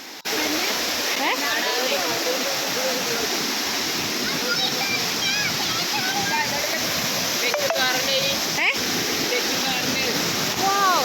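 Kurumathur waterfall in Kannur, Kerala roars as a dense, continuous rush of falling water close by, with voices faintly audible beneath the steady wash.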